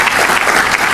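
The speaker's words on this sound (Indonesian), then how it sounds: "Tepuk tangan buat Tuhan." Church audience breaking into loud, dense applause, a close and continuous wash of many hands clapping for just under a second.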